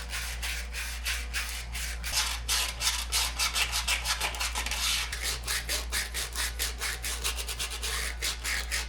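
Steady rhythmic abrasive rasping as powder coat is sanded by hand off the sealing surfaces of a BMW E46 Touring rear subframe, close and continuous with quick back-and-forth strokes over a low constant hum.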